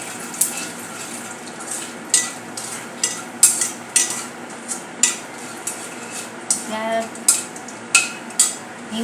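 Cumin seeds and asafoetida sizzle in hot oil for Bhogi bhaji while a spoon stirs and scrapes the pan in a regular rhythm, close and clear under a steady frying hiss, with no voices.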